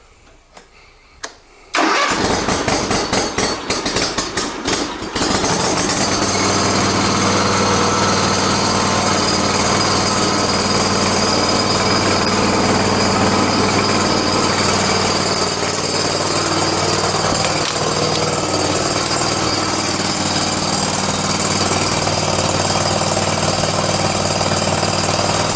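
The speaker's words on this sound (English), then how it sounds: "that's all there is to it to start one of these Hustler lawnmowers after sitting 4 or 5 months" A Hustler zero-turn lawnmower engine, started after sitting four or five months, cranks briefly, catches and settles into a loud, steady idle that runs on alone.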